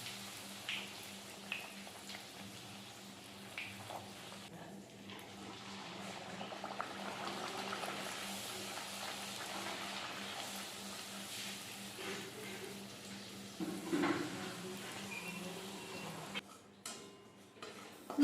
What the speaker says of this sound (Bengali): দিয়ে তেলটাকে গরম করে তার মধ্যেই লুচিগুলোকে করে নিচ্ছি